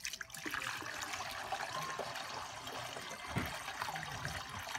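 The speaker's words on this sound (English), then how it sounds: "So you add water right here." Water runs steadily into the tank of an SSS86006 floor scrubber, a continuous splashing fill heard close by with a brief gurgle partway through and no talk.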